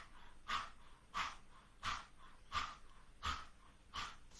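Panting breath of fire done with the tongue out like a dog: six sharp, evenly spaced breathy bursts, each roughly 0.7 seconds apart, close and fairly loud with no talking. A human voice imitating a dog's panting.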